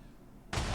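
Broadband blast from a Minecraft Mega TNT mod, where summoned fireworks and TNT go off; a sudden loud burst erupts after half a second of near silence and sustains to the end.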